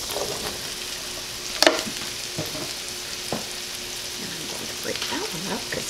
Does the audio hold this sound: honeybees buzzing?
no